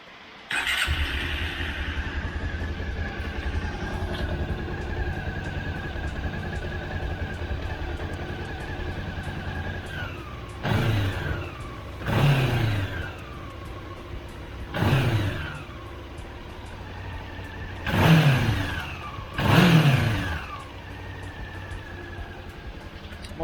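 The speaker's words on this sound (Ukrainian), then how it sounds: "Моторчик співає." A small Honda CB-500 motorcycle engine starts and idles with a steady buzz, then revs sharply several times in quick bursts, close by.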